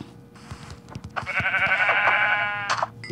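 A single sheep in Minecraft bleats in a long, wavering cry, preceded by a few soft clicks and a brief rustle, with no talking.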